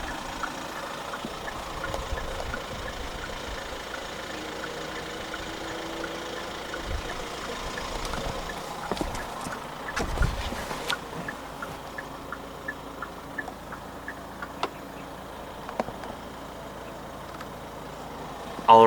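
A 2023 Hyundai STARIA 2.2 CRDi Plus diesel engine idles after start-up, a low steady rumble with a faint rattle, occasional clicks and a brief louder thump near the end.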